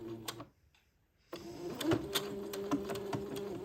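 A sewing machine zigzag-stitches over folded fabric, running in quick rhythmic bursts that stop briefly, then pick up again with a steady close clatter.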